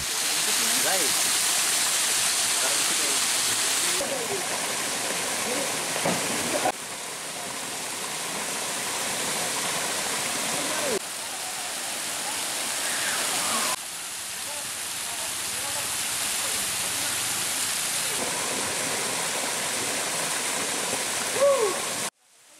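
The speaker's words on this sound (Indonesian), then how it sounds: "air terjun ini mengalir dari sebuah batu besar yang bentuknya mirip jamur" Steady, loud rushing water of a waterfall pouring from a large rock into a pool, a broad wash of falling and splashing sound that never lets up, with faint voices underneath at moments.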